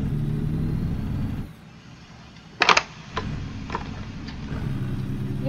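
An International truck's transmission grinds during a gear change, giving a few sharp metallic rasps and clicks over a low idling engine hum that dips and then returns.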